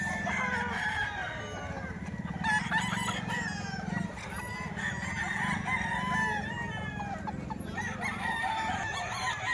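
Talisay roosters offered for sale crow repeatedly amid clucking fowl, several drawn-out calls overlapping at close range over a low, steady background, with no voices.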